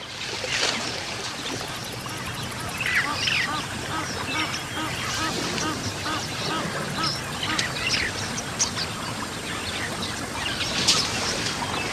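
Knob-billed geese call repeatedly in short honking bursts over a steady wash of wetland ambience near African elephants and giraffes at a waterhole, with scattered bird calls and no voices.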